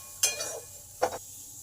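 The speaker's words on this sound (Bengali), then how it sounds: "2 মিনিট ভালো করে মশলাগুলোর সঙ্গে নেড়ে নেব।" Chopped beetroot is stirred in a pan with cumin, turmeric, coriander and curry leaves: two brief scraping strokes of a spatula with a faint sizzle between them.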